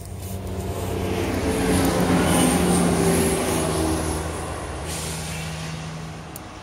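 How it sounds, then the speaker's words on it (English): A passing train gives a steady, loud rumble that swells to a peak midway and slowly fades, with faint high squeals and no voices. "Train."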